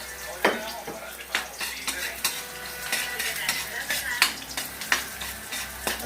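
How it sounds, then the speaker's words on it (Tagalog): Ginger sizzles in a hot pan for adobong pusit, a steady frying hiss broken by repeated scrapes and clinks of a spatula stirring, close by, with a voice speaking now and then. "Dapat gisay mo ng konti yung luya para mabango."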